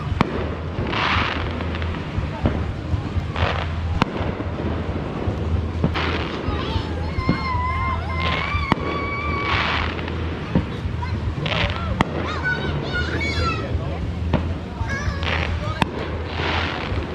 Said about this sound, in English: Freaking fireworks in the rain.